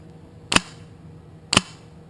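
A Polarstar FCU airsoft gun fires two sharp, close snapping shots about a second apart, each a crisp crack against a quiet background.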